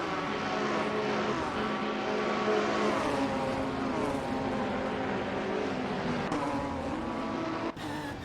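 GT4 race cars, Ginettas among them, roar continuously at a circuit in a racing video game, a dense, steady engine drone with shifting pitch throughout and a brief dip near the end.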